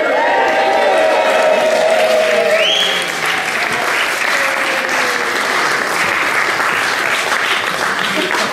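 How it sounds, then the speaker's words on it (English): Wedding guests cheer and applaud at the cake cutting, a loud, dense burst of clapping with whoops that holds steady for several seconds and eases slightly partway through, with voices mixed into the crowd noise. "So a big cheer from everyone when they cut, if you will."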